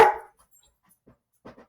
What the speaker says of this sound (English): the dogs are calmed down. I had to pause my recording because they went crazy